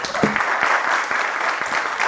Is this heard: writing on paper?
no